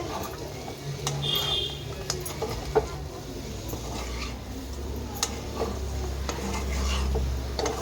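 Spoon stirring a biryani mixture in a cooking pot, a steady run of scraping and clinking strokes against the metal that continues for several seconds over a low burner hum, close and moderately loud, with no talking.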